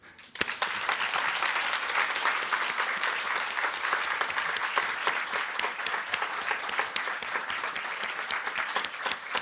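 After a brief quiet start, warm audience applause breaks out at a business summit and carries on evenly, a full crowd clapping close by without any talk.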